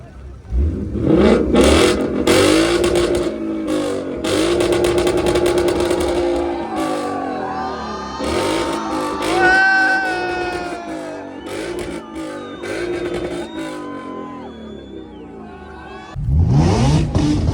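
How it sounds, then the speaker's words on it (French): At a car show, a car engine repeatedly revs hard against its rev limiter, with bursts of high-pitched, stuttering engine wail rising and falling, loud and close, and a crowd noisy in the background. "Si vous entendez des bruits de voiture, c'est mon tour de rupteur."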